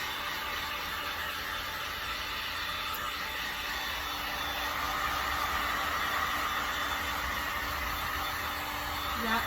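A hair dryer blows on wet Dixie Belle iron and copper patina paint on a wooden pig, a close, steady airy whoosh that runs without a break for the whole stretch.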